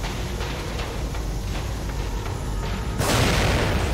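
An explosion in the horror video game The Evil Within hits at once, a sudden loud broadband blast that follows a few seconds of steady rumbling game noise and then keeps roaring.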